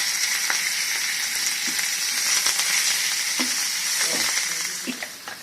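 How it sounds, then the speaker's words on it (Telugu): Curry leaves and asafoetida frying in hot oil as a tempering for ridge gourd chutney, a steady close sizzle with small crackles and pops scattered throughout. "తాలింపు వేగిపోయింది కదా"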